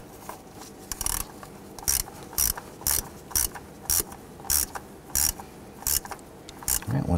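Ratcheting clicks come in short, evenly spaced bursts while screws are tightened on the idle air control valve of a 1997-2006 Jeep Wrangler, close and fairly loud over a low background hum.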